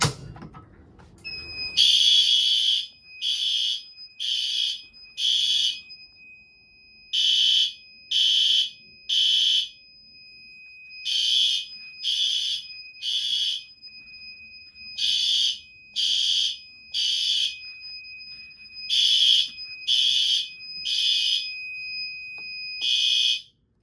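A building fire alarm system set off from a manual pull station sounds a loud, piercing electronic tone in evenly repeating bursts of three, close and alone, with no voices.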